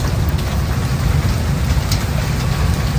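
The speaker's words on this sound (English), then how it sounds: "You hear the rain and the thunder?" Steady rain pours outside, a dense unbroken wash of patter that holds at the same level throughout with no voices; any thunder stays buried in the low rumble beneath the rain.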